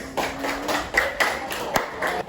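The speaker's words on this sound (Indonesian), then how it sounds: "Kita kasih tepuk tangan buat kelompoknya Nares" A classroom of students clapping for a group, several sharp distinct claps in a loose rhythmic pattern, close and moderately loud, with a brief voice at the start.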